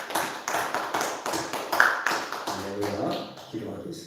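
A church congregation claps in welcome for new members, with rhythmic bursts of applause pulsing close by for a few seconds before thinning out at the end.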